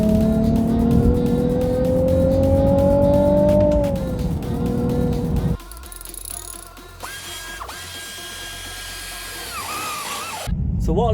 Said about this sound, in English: We're going to see if we can make this 370Z sound a little bit more lively